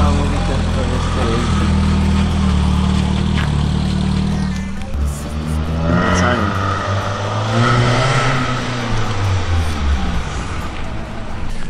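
A BMW E36 pulls away at night, its engine note rising and falling as it drives off while people talk nearby.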